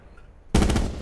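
Gunfire in the Call of Duty Blackout video game: after a brief quiet moment, a loud close burst of rapid automatic shots kicks in abruptly and keeps going to the end.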